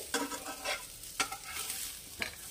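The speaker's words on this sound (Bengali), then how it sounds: "এটাকে একদম লো ফ্লেমে সেঁকে নিতে হবে। জাস্ট একটু সেঁকে নেব" Food being dry-roasted in a pan over a low flame with no oil, a spatula scraping and stirring in a few quick, close strokes over a faint background hiss.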